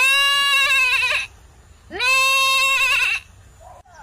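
A voice imitates a goat, giving two long, wavering bleats with a short pause between them and a faint fragment of a third at the end.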